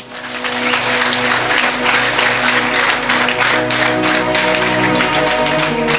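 A church congregation applauds loudly and continuously, with dense overlapping clapping that swells in and holds steady for several seconds.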